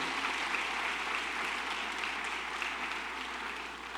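A church congregation applauds during a sermon, a soft, distant, even patter of clapping that tapers off slightly near the end.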